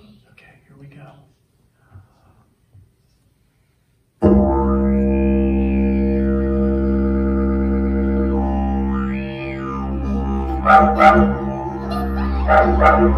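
Didgeridoo played as a dog imitation at a children's music event: a loud, sustained droning tone that swoops and warbles in bark-like and howl-like bursts, following a few quiet spoken words, with sharper yelping accents near the end.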